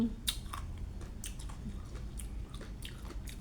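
Close, steady chewing and biting on makok (hog plum) fruit, with repeated soft crunchy bites over about three seconds and no talking.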